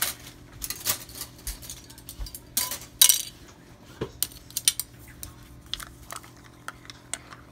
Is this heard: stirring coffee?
yes